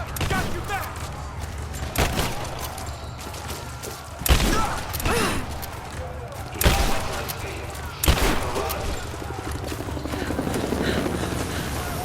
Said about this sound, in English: Give me covering fire!